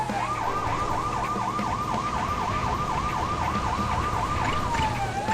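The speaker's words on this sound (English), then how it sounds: "Chase automatically puts a siren on when doing these car chases" A police car siren wails in a Lego City Undercover car chase, a loud continuous rising-and-falling electronic whoop over engine and road noise, no talking.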